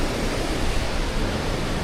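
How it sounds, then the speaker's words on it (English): A small waterfall beside a mountain trail in West Virginia gives off a steady, even rush of falling water, a constant close hiss with no breaks and no voices. "right over top of a little waterfall here"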